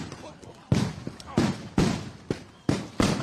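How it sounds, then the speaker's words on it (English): Firecrackers and fireworks burst outdoors during street unrest in Minneapolis, six or seven sharp loud bangs at irregular intervals, each with a short decaying tail. Faint crowd noise sits underneath. "Oh, we got fireworks going on."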